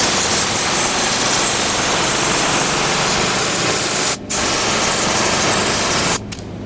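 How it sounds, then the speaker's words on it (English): A steady, loud hiss of compressed air blows debris from around the fuel pump on a 2011-2016 Ford F-350 with the 6.2L V8, continuing for several seconds with two brief breaks in the stream. "Blow some compressed air before the pump comes up just to get rid of all this debris that's sitting here."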